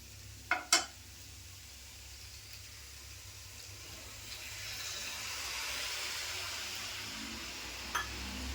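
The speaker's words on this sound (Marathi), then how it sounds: "आता मी थोडंसं पाण्याचा पण हापका मारणार आहे" Two sharp clinks, then a hiss of sizzling swells up as water is splashed onto bitter gourd frying in a hot pan and keeps frying steadily, with another clink near the end.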